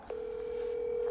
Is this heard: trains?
no